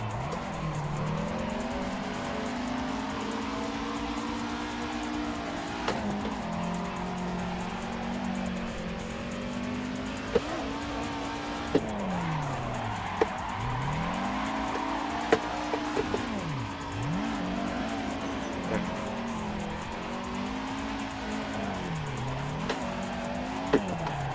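A Toyota AE86 drifts in the racing game Assetto Corsa, its engine revving up and down in repeated swells with tire squeal and skidding through slides, close and continuous.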